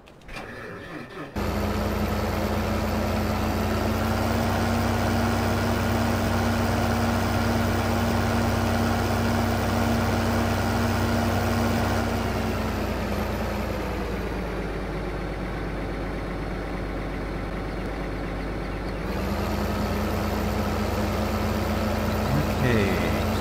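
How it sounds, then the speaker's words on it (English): Tractor engine in the video game Farming Simulator 2015, a steady droning hum that starts up and runs continuously at a constant level, its pitch dipping briefly in the middle before returning. "So let's get back in our tractor here."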